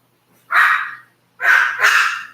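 A dog barks loudly and close by in two bursts, a single bark followed after a pause by a quick double bark, during a home live reading session.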